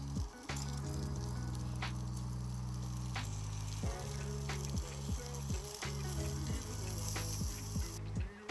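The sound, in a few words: leftover potatoes heating on a propane camping stove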